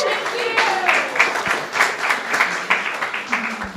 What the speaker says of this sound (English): So let's just say thanks to the band, okay, for those first two songs. A round of applause.